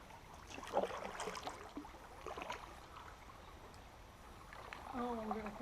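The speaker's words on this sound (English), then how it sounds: "I'm barely moving the paddles." Kayak paddles dip softly into creek water, making quiet splashes and trickles over a gentle flowing background, and a voice speaks near the end.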